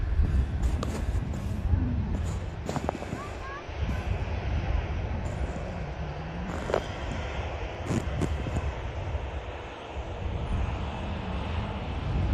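Aircraft at Manchester Airport, a broad continuous engine roar that holds steady throughout, with scattered brief knocks and handling noises nearby.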